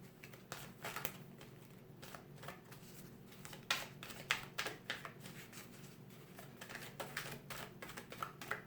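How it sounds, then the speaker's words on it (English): Tarot cards being shuffled by hand give soft, close riffling and flicking, a continuous rustle with a few sharper snaps, fairly quiet and with no talking. "let's just do one more shuffle to see"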